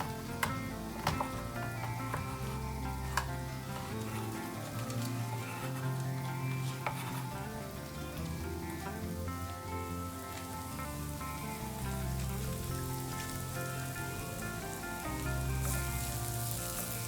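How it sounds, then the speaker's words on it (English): Chopped bacon sizzles in a skillet with a steady crackle and pop, partly under background music with no voices. "Chop the bacon and add it to the skillet."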